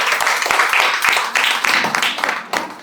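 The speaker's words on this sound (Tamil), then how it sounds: "இவங்க அத்தனை பேருக்கும் ஒரு பெரிய கைத்தட்டல் கொடுக்கணும்" An audience at a Rotary Club Doctor's Day celebration applauds, with dense, steady clapping from many hands that continues throughout at a loud level.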